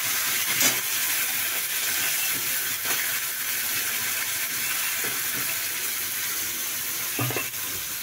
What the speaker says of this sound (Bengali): আগে ছোলাটা একটু ভেজে নেব।